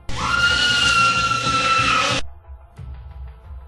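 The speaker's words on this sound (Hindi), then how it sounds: "तभी एक औरत की जोर से चिल्लाने की आवाज़ मुझे सुनाई दी" A woman screams loudly in a Hindi radio horror drama: one sustained, piercing, high-pitched shriek of about two seconds that cuts off abruptly, leaving a low rumbling background.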